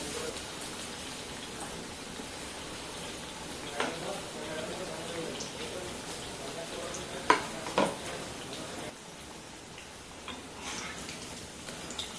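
Potato bhaji frying in hot oil in a Marathi home kitchen, a steady soft bubbling hiss running throughout with a couple of brief clinks; a voice talks over it.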